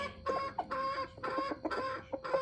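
Chickens clucking close by while being fed, a rapid run of short, nasal clucks repeating in quick, uneven bursts.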